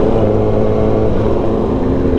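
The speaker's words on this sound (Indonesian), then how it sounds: "Awas mobil." A car passes close by on a rainy road in Semarang, heard from a moving motorbike as a steady, loud engine rumble mixed with wind and road noise throughout.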